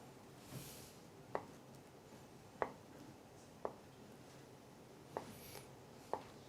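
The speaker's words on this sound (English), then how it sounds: "Now, cut the tofu," A knife cuts soft tofu into small dice, each stroke a faint, sharp tap on a board, falling at a slow, uneven pace of about one every second amid quiet room tone.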